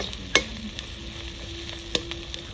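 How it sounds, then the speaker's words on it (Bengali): Soft sizzle of onions frying in a pan, with two sharp utensil clinks against the pan; quiet and close, no talking. "পেঁয়াজ ভাজা হয়ে গেছে"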